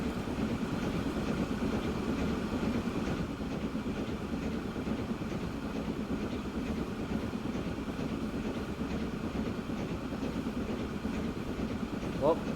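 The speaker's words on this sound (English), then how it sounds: "Passenger trains flocking everywhere." Passenger trains rolling through a busy rail network in the transport-building game Transport Fever 2, a steady wash of rumbling wheels and clickety-clack from several trains at moderate distance, continuous throughout with no talk.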